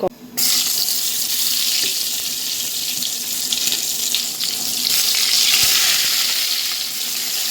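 Eggplant slices seasoned with turmeric and salt frying in a pan, giving a steady loud sizzle that rises and falls throughout, with no break.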